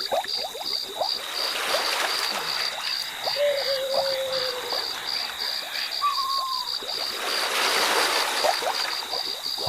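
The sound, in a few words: water waves lapping around a boat on a pond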